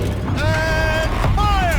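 A turret rotating in Horizon Zero Dawn, giving off a drawn-out metallic creak with whining, gliding tones over a low mechanical rumble.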